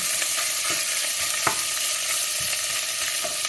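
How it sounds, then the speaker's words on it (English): Pork belly pieces sizzle and fry in a hot pan for kimchi jjigae, a loud, continuous crackling hiss with a few sharper pops and stirring scrapes, with no voices. "we're just gonna dump all our pork belly in here, and well, basically you pretty much want to give it some nice color"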